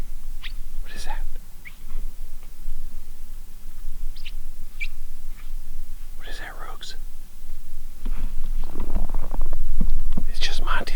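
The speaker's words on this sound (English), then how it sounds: "It's just Monty squeaking." Monty the dog gives a few short, high squeaks inside a hot tent at a bitterly cold winter campsite, scattered between quiet murmuring voices and low rustling.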